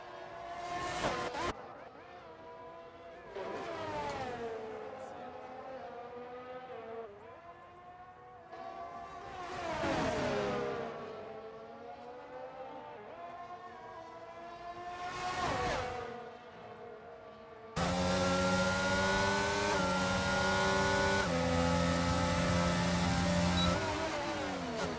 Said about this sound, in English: let's just enjoy the sounds of F1 for a lap.